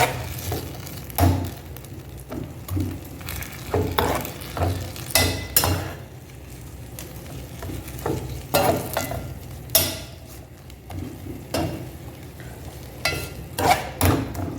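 Mint leaves sauté lightly in oil for chutney, close stirring with sharp clinks and scrapes against the pan in irregular bursts over a soft sizzle; no talk.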